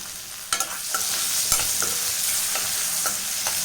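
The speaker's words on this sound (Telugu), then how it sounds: "సన్నగా కట్ చేసి పెట్టుకున్న ఆనియన్ ముక్కలను కూడా వేసుకొని మంచి ఎర్ర కలర్ వచ్చేంత వరకు అయితే ఫ్రై చేసేద్దాం" Thinly sliced onions frying in a pan for an egg curry, a steady close sizzle broken by periodic stirring scrapes and knocks of a spatula against the pan.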